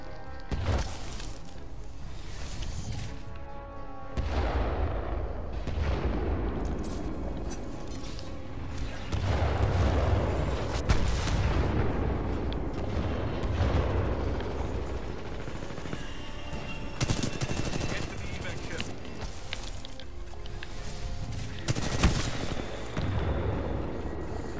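Shotgun blasts in the video game Titanfall 2 sit inside a loud, continuous firefight, with dense gunfire and booming impacts sustained throughout.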